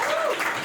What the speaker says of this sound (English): Thank you for applauding yourself.